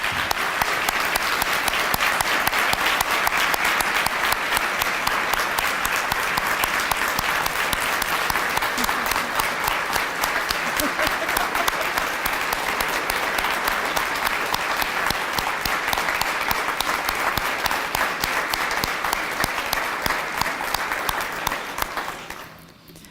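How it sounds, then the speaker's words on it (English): An audience gives a long, sustained round of applause for students at a conference event, dense clapping that holds steady before stopping abruptly near the end. "Let's give all of these great students one last round of applause."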